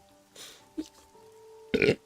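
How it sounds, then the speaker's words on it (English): Burps from a person during a late-night spooky story reading: a soft one, a brief mid-clip gulp, then a louder, fuller burp near the end, close up in a quiet room. "I keep burping"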